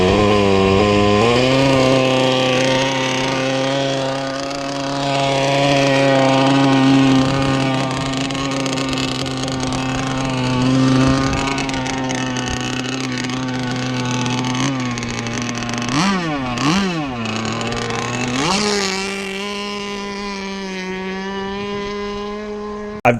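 Glow-fuel engine of a ZippKits SLR Thunderboat RC boat running loud and close, a steady high buzzing drone that dips and rises in pitch through quick throttle blips near the end.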